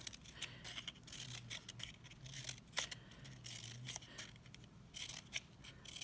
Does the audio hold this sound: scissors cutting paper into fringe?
yes